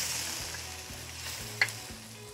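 Chopped mushrooms, artichoke hearts, diced tomatoes and onion cook in a pan with no extra oil, producing a quiet, steady sizzle with one brief sharp click, under a low rhythmic background hum.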